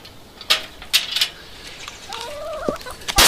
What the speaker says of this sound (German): Die Hühner, die fühlen sich natürlich auch total wohl.